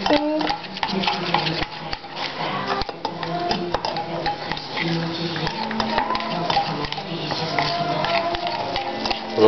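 A homemade smoke bomb mixture of melting sugar being stirred in a pan, with continuous rapid ticking and scraping of the utensil against the metal, close and steady throughout.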